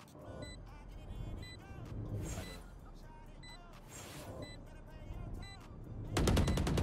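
Gunfire exchanges in the tactical shooter Valorant, with repeated moderately loud shots spread across the round and a harsh, louder burst near the end, mixed with game effects and occasional talk.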